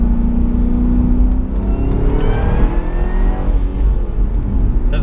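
A 556 hp Cadillac CTS-V wagon pulls hard under full throttle, its engine note climbing steadily through gear shifts, loud and close from inside the cabin without pauses between gears.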